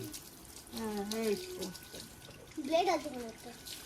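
Water gushes steadily from a direct motor-driven pump during a bath, a broad rushing flow running under voices that talk over it throughout.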